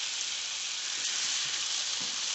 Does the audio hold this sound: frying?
yes